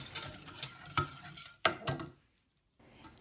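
A milk, sugar and starch cream mixture is stirred in a pot, with a spoon scraping and clinking against the sides in several sharp strokes before a short pause.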